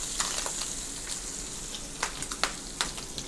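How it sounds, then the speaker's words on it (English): Bacon sizzles in a frying pan while being shuffled around, a soft steady crackle with scattered sharper pops and brief scraping bursts, no voices. "Give the bacon a bit of a shuffle around while we're waiting for the toast."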